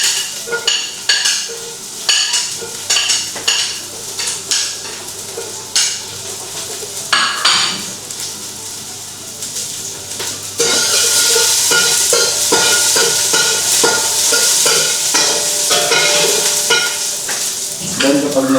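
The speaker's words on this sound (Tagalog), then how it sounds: "Kapag mainit na yung ating oil, sautay na natin yung ating garlic." Garlic sautéing in hot olive oil for chicken sopas sizzles and spits steadily while a utensil stirs and scrapes the pan, and the frying grows louder and denser partway through.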